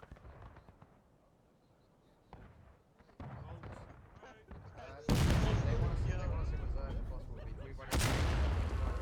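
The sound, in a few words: gunfire in the video game War of Rights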